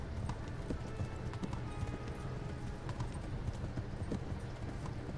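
Rapid, continuous hoofbeats of a galloping horse in the video game Kingdom Come: Deliverance, pounding over a dense rumbling background, fairly faint and steady throughout.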